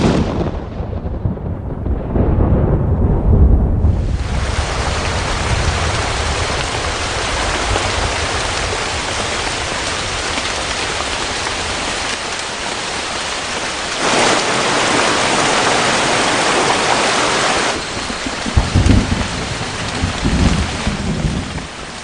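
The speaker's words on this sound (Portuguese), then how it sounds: "e volta em forma de chuva." Heavy rain pours steadily over the Atlantic Forest, a loud continuous hiss that runs throughout, with low rumbles of thunder rolling underneath and swelling at moments.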